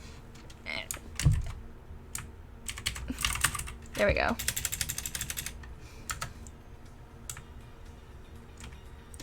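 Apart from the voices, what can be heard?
typing on a computer keyboard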